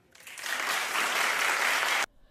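An audience at a debate claps in a short, dense burst that starts quickly, holds steady for about two seconds and cuts off abruptly, leaving near silence.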